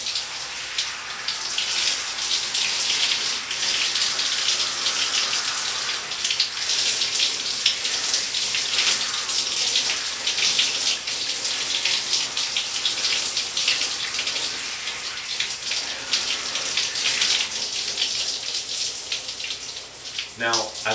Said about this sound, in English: I'm going to let that water fall on the crown of my head and brush out the shampoo.